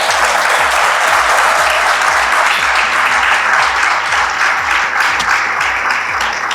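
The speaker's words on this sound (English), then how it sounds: "Give them a big round of applause as well." Loud, close applause fills a secondary school graduation ceremony hall, an unbroken wash of clapping over a steady low hum from the room's sound system.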